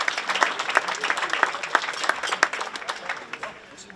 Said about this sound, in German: es haben sich alle Akteure einmal einen großartigen Applaus verdient